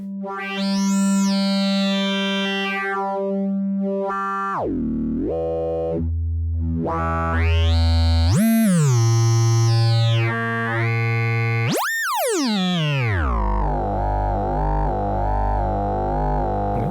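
An Instruo Tš-L synthesizer module wavefolder output clocked by a square wave sweeps through buzzy, harmonically rich tones, with abrupt pitch swoops, drops and rising chirps, loud and electronic with no talking.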